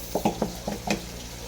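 Onions fry in a pan during cooking of a Bengali katla fish curry with mustard and poppy seed, a soft sizzling bed broken by several quiet scraping stirs in an uneven rhythm.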